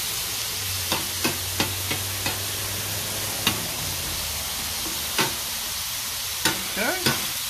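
Ground beef frying on a 36-inch griddle over medium heat, a steady close sizzle broken by sharp scraping clicks of a spatula at irregular intervals, with a low hum underneath and no talking.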